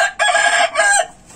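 A rooster crows loudly and close, a strained two-part call with a brief break in the middle, then quiet.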